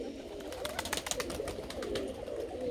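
Ornamental pigeons make soft, close wingbeat flutters and light rustling in a series of quick pulses, with a low cooing murmur underneath.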